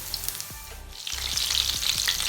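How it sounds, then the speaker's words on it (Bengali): Pui shak (Malabar spinach) pakora fritters deep-fry in oil with a bright, busy sizzle that swells after a short lull, punctuated by a few low knocks. "ডুবো তেলে কিন্তু বড়াগুলো বেজে নেবেন"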